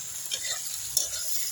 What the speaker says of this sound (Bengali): ভালো করে আদা রসুন দিয়ে কষতে দিয়েছি